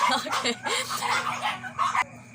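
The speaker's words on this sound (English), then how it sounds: "sorry for the noise of my dogs" Dogs bark and yip in quick overlapping bursts, close and loud, with a brief whine among them and a voice underneath.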